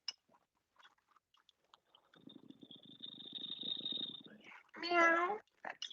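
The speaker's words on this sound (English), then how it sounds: "That's a really big meow." A cat gives one loud, drawn-out meow near the end, after a stretch of soft rhythmic purring or chewing and a steady faint tone, with scattered small clicks and rustles in a quiet room.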